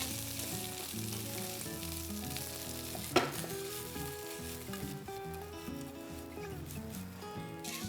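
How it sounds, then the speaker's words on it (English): Boiled diced potatoes and chopped green chilies frying in a pan for aloo sabzi, a steady close sizzle with scraping stirs and one sharp clatter midway, while soft background music plays throughout. "Let the potatoes cook for 2 minutes."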